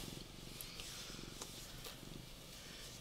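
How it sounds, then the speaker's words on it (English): A welcoming cat purrs close up in a quiet indoor setting, a soft continuous rhythmic rumble that ends in a sudden loud noise. "Can you hear him purring? He's just purring up a storm."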